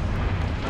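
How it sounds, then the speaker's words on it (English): A grenade explosion in Halo: Reach: a dense, roaring blast of broadband rumble filling the whole brief moment, loud and close, with no talk. "get killed with the grenade"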